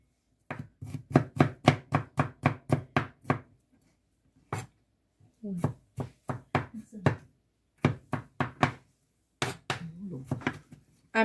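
A knife chops garlic on a board in quick rhythmic bursts of sharp, close taps, with short pauses between runs of strokes.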